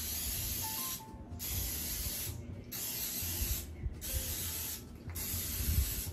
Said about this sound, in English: I'm going to liberally spray the pan with Pam right now